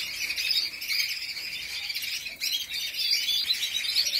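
Several small caged birds chirping and twittering continuously nearby, a dense bright chatter of overlapping calls with occasional squawks and no talk.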